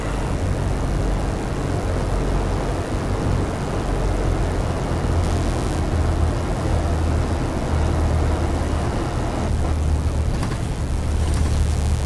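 A simulated airplane touching down on a runway in the X-Plane 11 flight simulator, a loud steady engine and wind roar with low rumble continuing throughout, with no talking.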